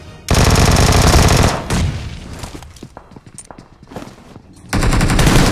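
Rapid automatic gunfire in a battle royale video game match, two loud sustained bursts framing a stretch of scattered thuds and lighter shots, no talking.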